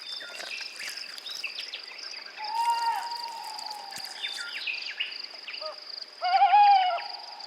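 At night in Spanish juniper woods, an owl gives drawn-out hoots, one near the middle and another louder near the end, over a constant high chirping of crickets and insects, with scattered bird calls in between.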